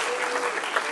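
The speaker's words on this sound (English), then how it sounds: "Thank you for clapping till I got here." Audience applause at an awards ceremony honoring an international film star, a dense steady wash of many hands clapping with no breaks, close and fairly loud throughout.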